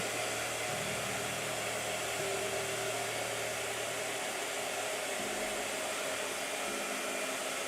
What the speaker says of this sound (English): Oh, we've hit blow dryer stage.